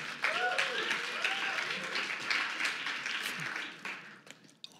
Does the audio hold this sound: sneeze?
no